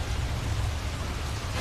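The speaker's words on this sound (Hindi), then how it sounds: "ये अचानक बारिश कहाँ से आ गई?" A sudden rainfall is a steady, dense hiss of falling rain, moderately loud and continuous throughout the short stretch.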